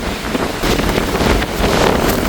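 Strong wind from Cyclone Ditwah blasts across the sea at Jaffna, a loud continuous roar buffeting the microphone, with crashing surf mixed into the gusts.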